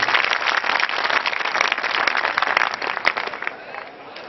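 An audience claps and applauds loudly at a business seminar, a dense, continuous wash of hand claps that tapers slightly toward the end.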